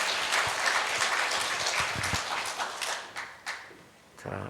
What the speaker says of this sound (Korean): 영광의 박수 하나님 앞에 올려드리겠습니다